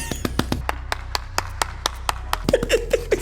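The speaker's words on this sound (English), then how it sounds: "I would just like to give O a hand clap" A few people clap their hands in uneven, sharp bursts, close and fairly loud, with light laughter and brief voices mixed in toward the end.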